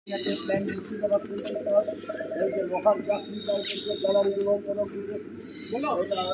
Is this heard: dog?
no